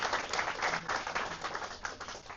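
An audience at an annual prize distribution and elocution competition gives steady, dense applause, heard at a distance and fairly quiet.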